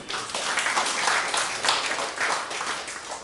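A church congregation claps together at a Sunday service, a dense, steady patter of many hands that holds at an even level for a few seconds, with no voices over it.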